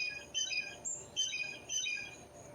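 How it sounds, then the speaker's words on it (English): A bird calls repeatedly outdoors in a series of bright chirping, warbling phrases, moderately near and clear over a quiet background hum. "I don't know what kind of bird that is."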